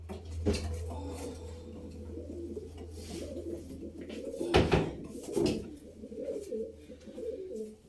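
Purebred pigeons coo softly indoors, with a few low murmuring calls mixed with sharp clattering knocks and scuffs from handling nearby, no voices present.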